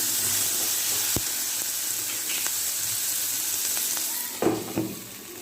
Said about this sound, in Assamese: তেলতে ভাজি ল'লোঁ